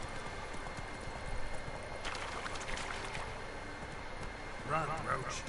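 Roach, a horse in The Witcher 3, gallops with rapid hoofbeats at moderate distance over game ambience, with brief splashy water-like noise near the end.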